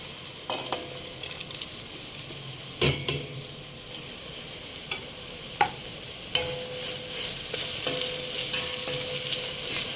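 Curry powder being stirred into chicken biryani with basmati rice frying in a pan, with a steady sizzle broken by a few sharp utensil scrapes and clinks against the pot, close up and with no talking.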